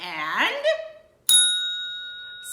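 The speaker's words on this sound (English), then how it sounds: "smack the bell so that you can receive notifications" A bright notification bell chime strikes once after a brief burst of whooshing, rising tones, then rings on with a long, clear, slowly fading sustain.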